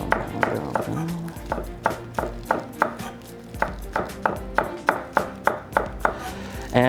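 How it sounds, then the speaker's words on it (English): Green onions are finely sliced with a knife on a cutting board for gyoza filling, producing a brisk, even series of close, crisp chops that speeds up toward the end. "Then our green onions, we are going to want to take off any not so good looking ends, and then just a very nice fine slice on these guys"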